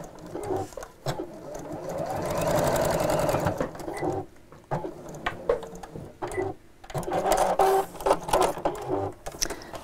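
A sewing machine stitches a zipped tote bag up close with rapid mechanical whirring in sustained runs, stopping and starting several times with clicks and handling noises between bursts.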